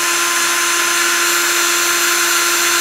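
Drill spinning a wire wheel to brush rust and debris off brake wheel cylinder parts, a loud steady high-pitched whir with a constant tonal hum, close and continuous, no talk.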